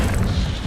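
The Incendio fire spell cast in Hogwarts Legacy, a loud, dense whooshing roar of flame with heavy low rumble, sustained through the brief moment without any voice.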